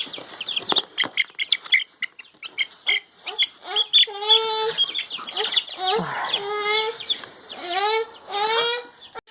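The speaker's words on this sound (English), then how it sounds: "And here we are, 4 new baby chicks." Four baby chicks chirp close by, giving repeated high peeping calls in quick bursts that keep going the whole time.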